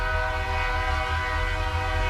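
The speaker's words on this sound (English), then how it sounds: "climbing aboard a network of freight trains called La Bestia" A freight train known as La Bestia, heard as a loud, steady mechanical drone with sustained horn-like tones that hold for the whole moment, with no voices present.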